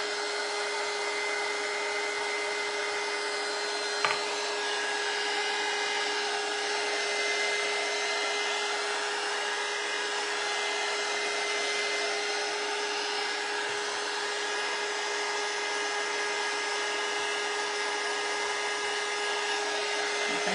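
A hair dryer runs continuously at one steady setting for about twenty seconds, a constant whirring hiss with a fixed motor whine, drying a Christmas bouquet craft, with one faint knock early on.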